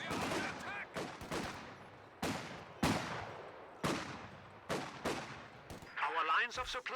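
MG42 machine gun fire in a World War II strategy video game: about seven loud, sharp bursts in uneven rhythm, each with a ringing echo tail. Brief tonal game sounds or a faint voice close the sequence.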